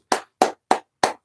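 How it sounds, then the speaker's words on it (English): Four sharp hand claps land in an even, fairly quick rhythm, each crisp and close with silence in between. "I was clapping."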